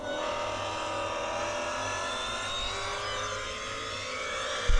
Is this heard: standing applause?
no